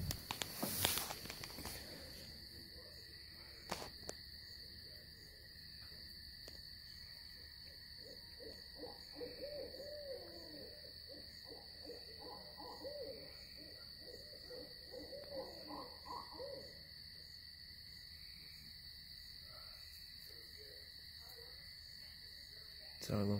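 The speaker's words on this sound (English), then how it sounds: "It's our local hoot owls." Local owls hoot in a rural outdoor setting, faint and distant, with repeated low calls through the middle of the stretch over a steady insect-like hum.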